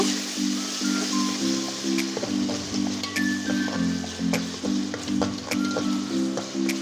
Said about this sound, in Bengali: আদা রসুনের পেস্টটা ভালো মতন আমি ভেজে নিব যাতে আদা রসুন একটা গন্ধ ওই গন্ধটা যায় না